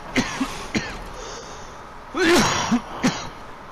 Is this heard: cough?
yes